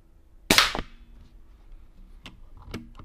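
A Boito Urutu 5.5mm air rifle fires a 21-grain slug with a single sharp, close crack, followed by a few faint clicks and taps in an otherwise quiet setting.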